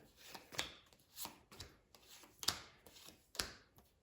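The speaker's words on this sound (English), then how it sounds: "We're going to start a new shuffle." A deck of cards being shuffled for a tabletop game, several quick riffling and sliding bursts in an uneven rhythm, close and fairly quiet, with no talking.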